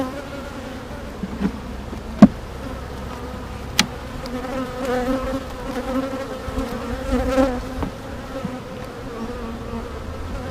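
Honeybees buzzing around an open hive colony that is light on bees, a steady close drone with individual bees whirring past and a few sharp clicks of hive handling.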